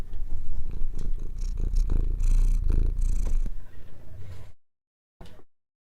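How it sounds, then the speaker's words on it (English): Maxwell the cat gives a close, low, rhythmic purr that rumbles in steady cycles for several seconds, then cuts off into silence before a short final burst. "Could you hear him purring?"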